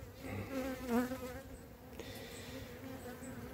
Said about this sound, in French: Oh, les abeilles sont pas mal.